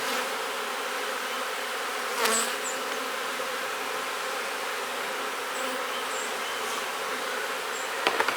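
Honey bees at a hive colony make a dense, continuous buzzing drone, close and steady throughout, with a few faint clicks and taps but no talking.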